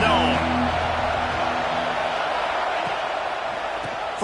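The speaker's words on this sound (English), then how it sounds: "This crowd ready to make its presence known." Stadium crowd in a college football video game, a steady roar of cheering and whoops filling the space throughout, with commentary voices heard faintly in the background.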